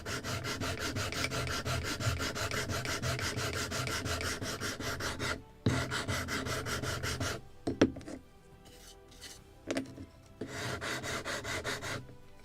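A sanding block rubs back and forth over wooden planking on a Midwest kit model of a Muscongus Bay lobster smack, steady rhythmic scraping strokes that stop briefly, then resume in short bursts.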